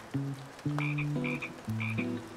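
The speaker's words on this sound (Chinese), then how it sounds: "好多青蛙哎！" Frogs in a wet field croaking in a nearby chorus, with loud throaty calls repeating in regular bursts and higher chirps between them, no voices.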